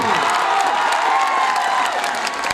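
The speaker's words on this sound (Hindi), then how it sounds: "एक बार आप सब अपने खुद के लिए ताली बजाइए" An audience claps and cheers at a large live stage show in Bhawnathpur, Garhwa, Jharkhand, a dense, steady wash of applause with crowd noise lasting the full stretch.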